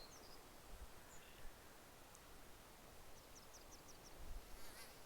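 Faint, high, flickering buzz of bugs swarming around a Sim in The Sims 4, a few brief chirpy bursts over a steady wash of ambient game noise, with no talking.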